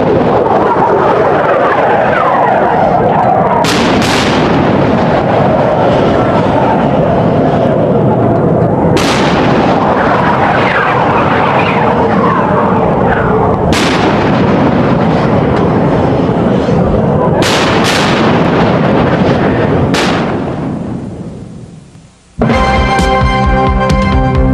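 Sixteen-inch guns fire aboard the Iowa-class battleship USS Wisconsin (BB-64), giving several loud, sharp booms spaced a few seconds apart over a constant heavy rumble. The rumble fades out briefly near the end.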